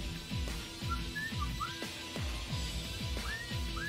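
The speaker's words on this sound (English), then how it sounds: "Which one of you father muckers was whistling?" Short rising whistled notes in a Dead or Alive 6 match, faint and intermittent over a steady pulsing backdrop of repeated low swooping tones.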